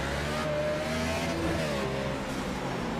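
NASCAR race cars in the iRacing game accelerating hard at Richmond as the green flag drops, a dense, loud, continuous engine roar throughout.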